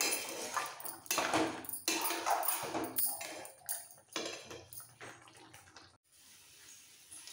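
Soybean kosha, a spicy soybean curry, being stirred in a cooking pan: repeated scraping, clattering bursts of spatula against metal, fairly close, with no talking.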